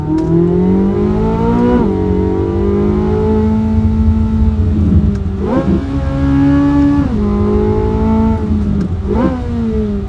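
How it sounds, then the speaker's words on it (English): A loud Corvette C8 Z06 engine drone heard from inside the car, rising and falling through gear shifts, with a deep exhaust rumble and valvetrain noise throughout. "You're just also getting a lot of engine noise, a lot of valve train."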